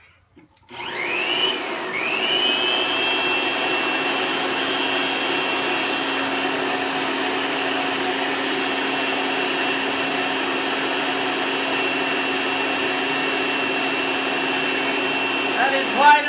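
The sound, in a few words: blower running for natural gas ribbon burner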